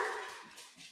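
Dogs bark indoors, a single quick, moderately loud bark that fades out almost at once.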